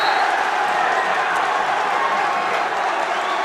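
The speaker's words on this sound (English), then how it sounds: "Listen to this crowd." A high school basketball crowd at a packed gym roars steadily, a dense wash of cheering and yelling with no break for the full few seconds.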